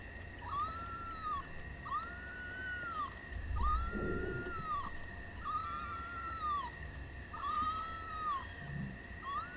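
Newborn feral kittens squabbling while nursing, with a rhythmic series of thin high mewing cries repeating about once a second, plus soft rustling and a brief thump, close and clear.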